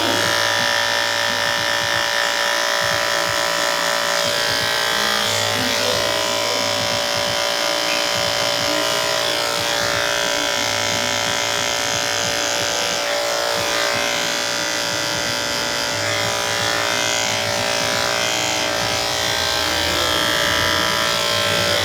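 A cordless electric shaver buzzes steadily and continuously while cutting hair during a haircut, a close, loud, unbroken motor hum with no talking.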